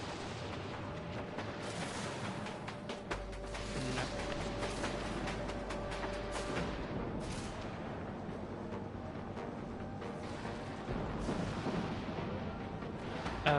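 Gunfire from the naval combat game Dreadnought pounds almost continuously in dense, overlapping heavy shots and booms over a low rumbling background, steady and moderately loud throughout.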